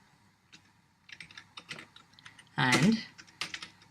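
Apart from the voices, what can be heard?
typing code on a computer keyboard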